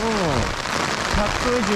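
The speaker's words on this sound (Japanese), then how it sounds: "めっちゃすごい雨でもう大変。" Heavy rain pounds down near a parking area in Nagasaki, Kyushu, a dense, continuous loud patter, while people talk briefly over it.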